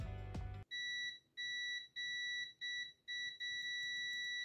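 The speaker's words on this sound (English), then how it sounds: "we pull out the multimeter and switch it to beep mode" A short burst of noise, then a multimeter's high electronic continuity beep sounds in several short pulses before holding as one long tone.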